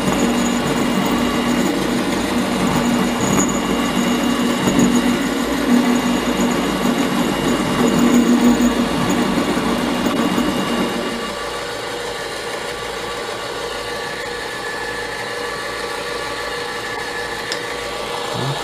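A metal lathe cuts copper with a steady mechanical whirr and grinding hum, loud and close, dropping to a quieter running drone partway through.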